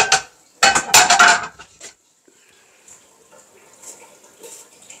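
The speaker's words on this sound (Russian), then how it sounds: "Я сейчас поставлю сковородочку на огонь." A frying pan is handled and set onto a stove while flatbreads without yeast are being made. It gives a brief burst of loud metallic clatter and scraping, followed by quiet faint clinks, with no talking.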